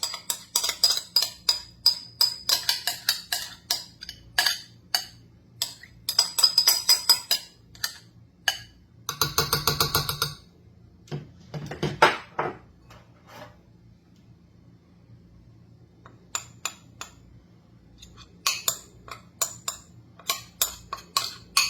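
A spoon stirs mayonnaise and grated Parmesan together in a bowl, making close, quiet clicking and scraping strokes in irregular bursts, separated by short pauses.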